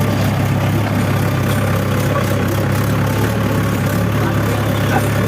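A tractor engine idling on a farm, a steady low rumbling drone that holds at an even level from start to finish with no voices.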